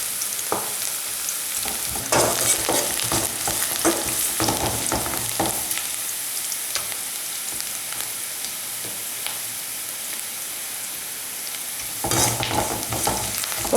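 Onions frying to golden brown in oil for vendakkai kathirikkai kara kuzhambu make a loud, steady sizzle up close, punctuated by repeated scrapes and knocks of a stirring spoon, with no talking.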